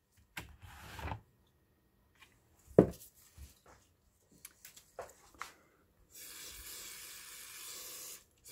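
A steady hiss of GT85 aerosol oil spray runs for a couple of seconds near the end, after scattered handling clicks and rustles.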